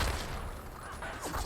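Rapid bursts of gunfire ring out in the 2006 Spy Hunter: Nowhere to Run video game. They are fairly faint and quick, with a voice faintly present.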